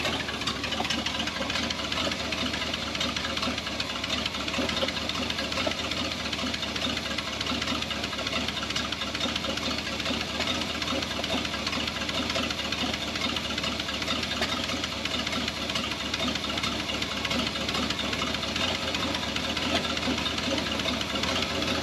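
A 1978 Chevy K10 4x4 engine idles roughly and steadily up close, its uneven running broken by irregular pops throughout, with no talking over it.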